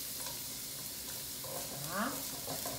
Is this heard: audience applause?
no